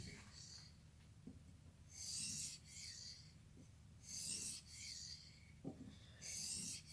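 A knife edge is drawn across a 650 grit Edge Pro matrix sharpening stone in quiet, rhythmic rasping strokes. About four bursts of scraping are separated by softer pauses and faint taps.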